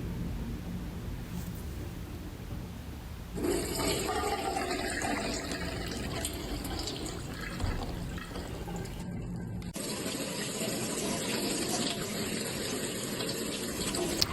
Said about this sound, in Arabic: صفيت الفول وشطفته كويس